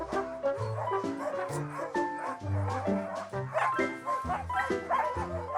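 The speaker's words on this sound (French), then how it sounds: "C'est des chiens de traîneau" A pack of sled dogs at an Abitibi-Ouest kennel yelps, howls and barks in a dense, overlapping chorus, loud and close, with excited yips throughout.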